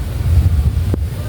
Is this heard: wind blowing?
yes